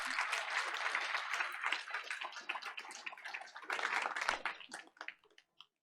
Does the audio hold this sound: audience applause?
yes